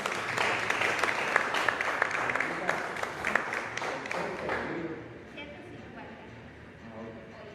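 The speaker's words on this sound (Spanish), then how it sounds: "vamos a despedirlo con un aplauso por esta publicación" An audience at a book presentation claps and applauds loudly and steadily at first. Over several seconds the clapping fades down to a quiet murmur.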